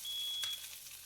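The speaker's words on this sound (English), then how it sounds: "The eggs are burning." Eggs burning in a frying pan sizzle with a steady bright crackle, while a thin high electronic beep from a smoke alarm sounds over the frying for about half a second.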